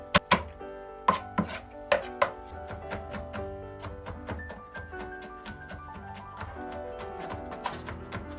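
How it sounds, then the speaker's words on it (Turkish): A knife chops garlic on a board with quick, sharp taps, first a few spaced strikes and then a fast steady rhythm, close up. "4 adet sarımsağım var. Onları da doğrayacağım."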